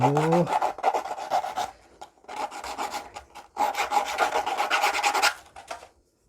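A file rasps across the teeth of a tool in quick, close strokes, grouped into three bursts separated by brief pauses, with no talking.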